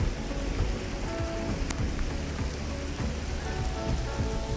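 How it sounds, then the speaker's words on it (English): Hailstones fall in a dense, steady patter close by near Lake Oeschinensee in Switzerland, a constant crackling wash of impacts with no talking. "it created a huge hailstorm, which I managed to capture a little bit of."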